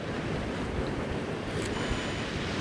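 Rough sea surf rolls continuously along the Northumberland coast, a steady broadband wash of breaking waves with wind buffeting the microphone throughout.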